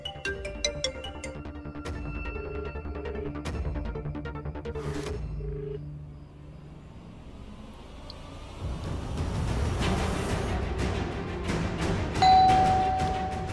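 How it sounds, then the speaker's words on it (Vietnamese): A house doorbell in a dubbed Indian drama series rings with bright repeated electronic chime tones over background music, followed by a denser, noisier musical swell. "có ai bấm chuông kìa"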